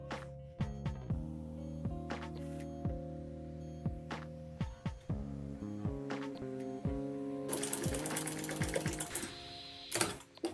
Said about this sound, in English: Let me go ahead to sew it.